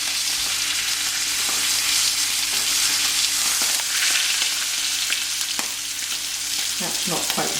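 Venison steak browning in a hot pan, a steady loud sizzle and crackle throughout, with a few sharper spits and scrapes near the end.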